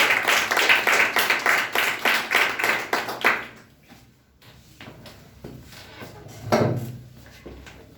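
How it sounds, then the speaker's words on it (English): An audience claps for a speaker at a public speaking competition, brisk rhythmic applause for about three seconds that then stops abruptly, followed by quiet room noise, a few faint taps and a brief rustle. "Well and clap for Sunny"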